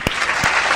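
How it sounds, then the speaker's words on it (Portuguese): A crowd claps in a brief, dense burst of applause, loud and close. "Salva de palmas."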